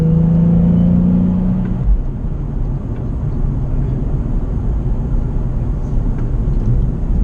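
A car driving the winding Tail of the Dragon mountain road between North Carolina and Tennessee, its steady engine and road rumble filling the whole stretch, with a brief low tonal drone near the start.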